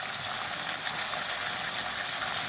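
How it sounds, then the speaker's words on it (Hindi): Chicken fries with ginger, garlic and green chilli paste in a pan, giving a steady, even, close sizzle with a bright hiss, continuous and alone without talk. "ये शामिल करके इन सबको अच्छे से मुझे फ्राई कर लेना है"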